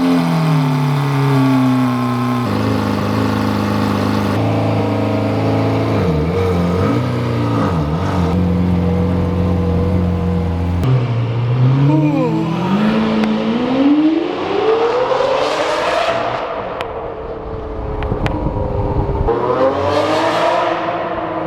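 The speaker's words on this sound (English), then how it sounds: "I have never downshifted so much in my entire life for no reason whatsoever." A Lamborghini Aventador engine revs and drops through repeated downshifts, loud and close, with rising and falling pitch, rev-matched blips and crackling bursts on the overrun.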